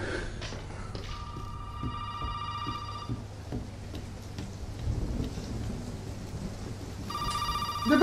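Telephone ringing in the horror game Resident Evil 7 on PS4 VR, two bursts of electronic ring, one early and one near the end, over a low rumbling ambient bed like rain or thunder.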